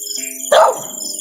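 One short, sharp dog bark rings out close by against a steady tonal hum, with quiet before and after.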